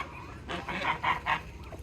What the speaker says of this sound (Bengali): এই যে ইয়া রাজহাঁসের বাচ্চা